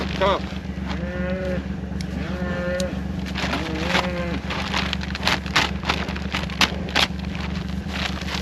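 Cows on a pasture moo several times at mid distance, drawn-out calls over a steady low hum, with brief clicks and knocks toward the end.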